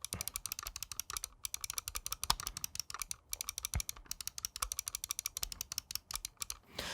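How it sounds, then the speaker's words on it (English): Buttons on a Razer Viper Ultimate wireless mouse are clicked in rapid, irregular series, giving sharp, close, crisp clicks with no talking. "has some of the best clicks in my opinion right now on the market. Let's drop a sound test."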